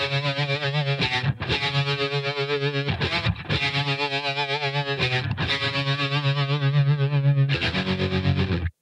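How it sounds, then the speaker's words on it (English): Distorted electric guitar chords processed through a Waves Kaleidoscopes analog modulation plugin, with fast tremolo pulsing and flanger sweep layered on top; loud, dense phrases separated by brief gaps, no voices. "giving the guitar two layers of movement, fast-moving tremolo, as you can see up here on the motion display, and flanger"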